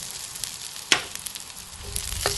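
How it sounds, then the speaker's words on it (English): Garlic and sliced Chinese sausage fry in hot pork lard for fried rice, giving a steady soft sizzle with a sharp click and light scraping partway through, close and without speech. "put in the garlic and sausage"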